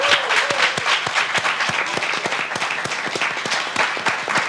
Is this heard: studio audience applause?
yes